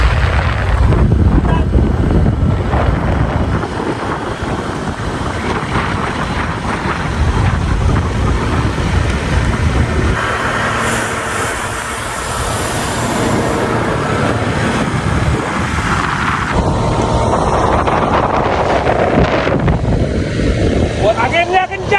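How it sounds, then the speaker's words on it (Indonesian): Strong wind roars and buffets the microphone on a road bicycle riding at about 30 km/h, a loud, continuous rushing noise with shifting gusts throughout. "Anginnya kencang."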